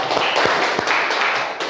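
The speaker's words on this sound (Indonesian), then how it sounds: "mari kita tepuk tangan untuk kesemangatan kita dalam mencari ilmu" A classroom of students clapping together during an ice-breaking moment in a lesson, a dense burst of hand claps with a couple of sharper taps standing out, steady and fairly close throughout.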